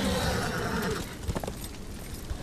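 A horse in the Darksiders video game neighs loudly up close, a strained whinny that fades after about a second into softer hoof clops and game ambience.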